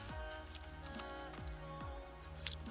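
Computer keyboard keys tapped in a steady string of short, close clicks while a command is entered, with a constant low electrical hum underneath.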